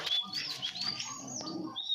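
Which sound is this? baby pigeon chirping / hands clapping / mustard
baby pigeon chirping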